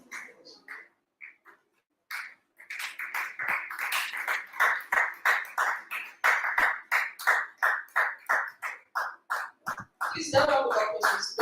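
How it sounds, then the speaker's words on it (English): Thin audience applause for the next speaker at a conference session: loose claps start, then settle into an even rhythmic beat that fades toward the end, with a voice near the close. "Please, a round of applause as she comes."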